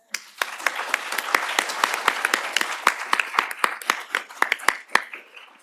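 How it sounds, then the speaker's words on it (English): An audience applauds at the close of a panel on embryo law and ethics, a lively burst of clapping with prominent individual claps ringing out before it tapers off. "let's end with a round of applause"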